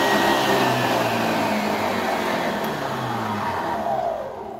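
A kitchen mixer machine whips eggs with sugar, a loud, steady motor whine close by that holds constant and eases off at the end, with no talking.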